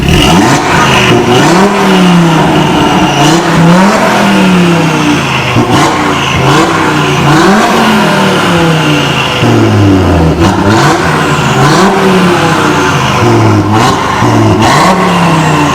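A Volkswagen Golf Mk7 with RS3 conversion and back box delete exhaust revs repeatedly, climbing and falling in pitch with a throaty exhaust rumble, loud and close, no voices.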